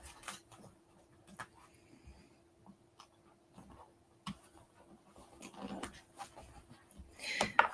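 Dogs whimper and give short yelps in bursts close by, with quiet gaps between them while someone works on stiff faux leather for a large tote kit.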